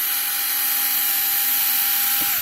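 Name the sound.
drill boring window holes in plastic model kit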